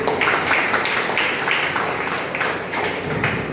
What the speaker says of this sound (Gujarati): આપણે સૌનું તાળીઓથી સ્વાગત કરીશું.